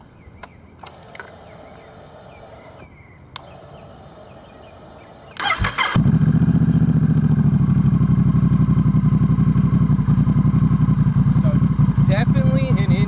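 Honda Rebel 1100 motorcycle with an aftermarket exhaust cranking and starting, then a loud, close, deep steady idle with a quick throttle blip near the end, people talking quietly before the start.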